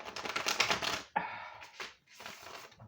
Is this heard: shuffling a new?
yes